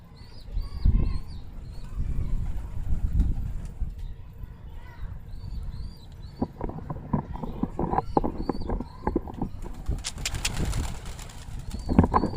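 Pigeons at a Karachi loft cooing and flapping, with bursts of wing beats and shuffling among steady background noise and faint voices, busier and louder toward the end.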